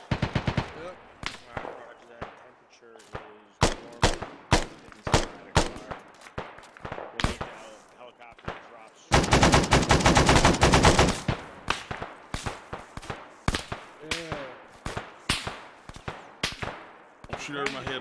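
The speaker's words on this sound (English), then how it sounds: "Shooting from the right in front of you" Gunfire in the military video game ARMA 3, with an armored cavalry patrol: loud rapid bursts and single shots throughout, including a dense sustained machine-gun stretch near the middle, close and dominant.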